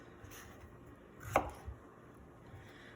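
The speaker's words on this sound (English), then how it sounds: "The next thing that we're going to prep is our cucumber. We're going to cut off the butts." A knife chops the ends off a cucumber on a cutting board, one sharp close chop followed by a smaller tap, alone in a quiet room.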